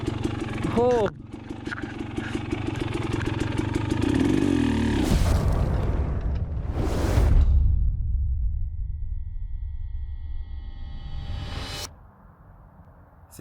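An enduro dirt bike engine runs in a garage beside a tire changer after a tubeless tire install, with a loud rumbling roar that swells and fades. A man briefly exclaims and talks over it.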